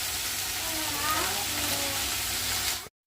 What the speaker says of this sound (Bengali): উচ্ছে কুমড়োর জন্য একটু উচ্ছেটাকে ভালো করে ভেজে নেবো।